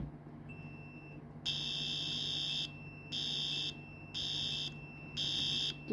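Fire alarm in a Roblox fire alarm system test, a loud electronic horn blaring in four regular pulses of about a second each, preceded by a faint steady tone, with no talking.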